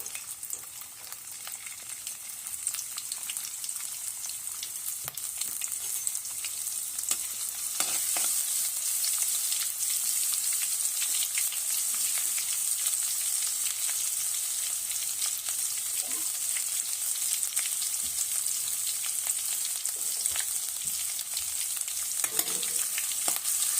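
Chopped garlic and ginger sautéing in hot oil for a spicy soybean curry, a continuous bright sizzle with occasional scrapes and clicks of stirring, steady and close throughout with no talking.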